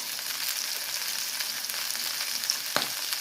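Okra, onion and capsicum sizzling in a nonstick pan for bhindi masala, a steady bright hiss with a small clink near the end and no talking.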